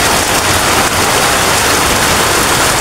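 Heavy rain pours down amid midnight floodwater, a loud, dense and unbroken rushing wash close by.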